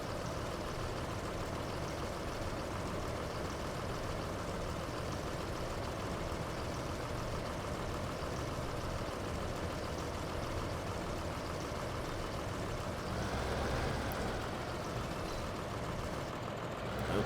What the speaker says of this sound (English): I'm not sure refueling with the engine still on is a good idea